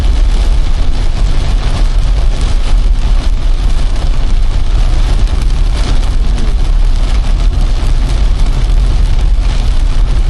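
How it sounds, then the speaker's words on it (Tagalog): Loud, steady downpour hisses continuously, with a low rumble of a vehicle engine underneath throughout. "Pag ganyan na naman itong ulan na ito maghaba hanggang gabi na pa."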